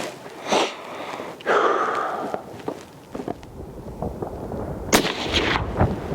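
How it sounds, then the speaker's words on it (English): A Springfield Model 2020 Redline rifle fires outdoors in wind, giving a couple of sharp reports amid footsteps and rustling handling noise, with no talk. "Shooting the bottom right once more."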